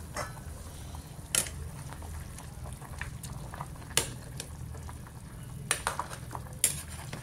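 Pot of tomato soup simmering on a home stove, a steady low bubbling bed with occasional sharp clinks of a utensil against the pot and no voices.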